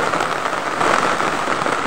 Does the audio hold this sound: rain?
yes